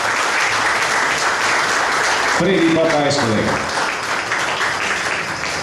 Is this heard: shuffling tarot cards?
no